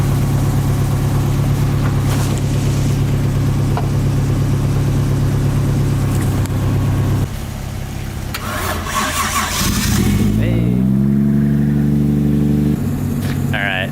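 A 1991 Nissan 240SX engine cranking, catching and revving, with a steady loud running drone, a pause, then rising and falling rev sweeps close by.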